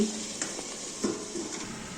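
Vegetables cooking in a pan with slit green chilies and sugar, giving a steady soft sizzle with faint stirring scrapes, close and fairly quiet.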